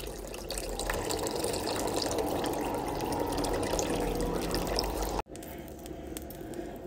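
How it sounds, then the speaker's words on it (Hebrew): Cold tap water runs steadily from a kitchen faucet into a bowl of oiled, salted couscous, a loud continuous splashing stream that cuts off abruptly near the end, leaving quieter room noise. "ועכשיו מים קרים, אפשר מהברז אבל קרים"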